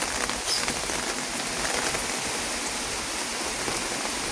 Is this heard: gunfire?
no